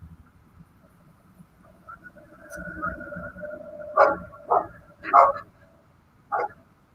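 A small dog barks at close range in four or five sharp, separate yips toward the end, following a soft whining tone.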